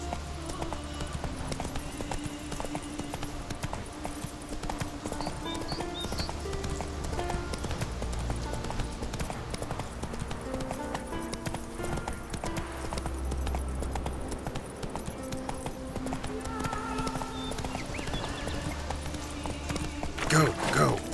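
Horse galloping in The Witcher 3, a continuous rapid clip-clop of hooves with game music and ambience, while someone talks over it at times.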